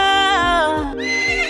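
A horse gives a loud, close whinny that quavers, rises and falls for over a second before breaking off, followed by a short second whinny, with no talk.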